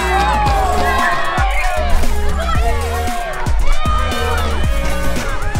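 Loud, steady crowd cheering and chanting from a football video game rings out after the final whistle seals a 3:2 win over the European champions, sustained throughout with a rolling stadium roar.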